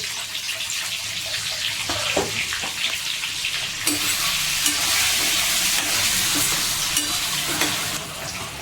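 Eggs sizzle steadily in a hot pan for an egg and taro stew, a continuous close frying hiss that grows louder midway, with occasional light stirring clicks and no talking.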